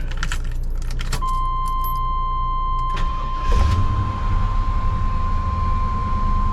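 Keys jingle and a steady electronic chime sound before the engine of a cheap Class A motorhome in Oregon cranks briefly and catches, then settles into a low, rumbling idle that continues to the end.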